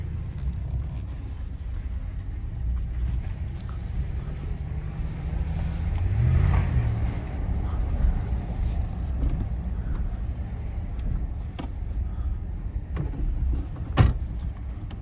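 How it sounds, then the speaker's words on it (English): A 2017 Ram 1500 crew cab 4x4 pickup drives slowly around a dealership lot, heard from inside the cab as a steady low engine and road rumble with a brief swell midway and a sharp knock near the end. "I'm just going to take this for a little quick drive around the dealership here."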